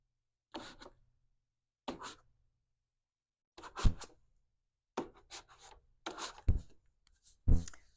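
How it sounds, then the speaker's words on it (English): A squeegee drags paint across a surface in an art studio, making a series of short rasping scrapes, each a second or so long, separated by silence and growing more frequent toward the end. "I've run out of paint on my squeegee"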